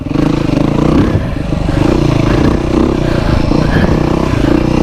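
A Beta RR motorcycle engine revs high and constantly while being ridden, loud and close, with steady engine roar, clatter and wind, and no voices.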